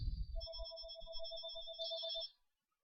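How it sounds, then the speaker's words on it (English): A phone ringtone plays during a probability and statistics class. It is a faint, bright electronic melody of quick repeated tones, heard over soft low room noise, and it fades out near the end. "phone ring, but don't worry about it."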